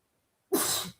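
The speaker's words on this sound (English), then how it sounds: "I never sneeze only once." One sudden loud sneeze bursts out of silence, close and sharp, fading within half a second.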